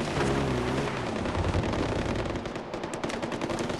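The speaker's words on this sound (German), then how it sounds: "und hier wird auch schon fleißig geballert" Sustained automatic gunfire in the video game Far Cry 4, dense rapid bursts filling the whole stretch, loud and continuous with overlapping shots and no talk.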